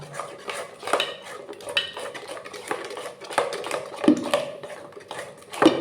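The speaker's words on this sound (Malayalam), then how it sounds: "എന്നിട്ട് നന്നായിട്ട് ഇങ്ങനെ ബീറ്റ് ചെയ്ത് കൊടുക്കുക" A spoon beats cake batter holding ghee-fried cashews and raisins in a bowl, giving quick, irregular clinks and scrapes against the dish with a few sharper knocks, close up, with no voices.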